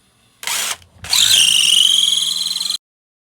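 A power drill whirs in a short burst, pauses briefly, then runs again at a steady high-pitched whine for over a second before stopping. Close and loud.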